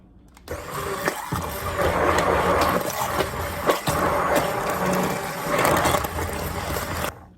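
A hand mixer whirs steadily through egg dough for pasta, a close, continuous motor drone with a rougher, churning edge that starts and stops cleanly.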